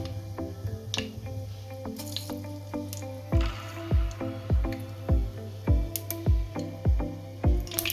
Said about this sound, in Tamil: கடுகு வெடிக்குது